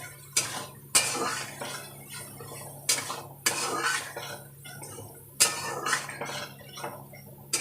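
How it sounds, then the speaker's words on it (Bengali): A metal spatula scrapes and taps repeatedly against a pan as potatoes with poppy seed paste are stir-fried, giving sharp irregular clinks every second or so over a low background hum. "দিয়ে এবার একটু ভালো করে কষাবো"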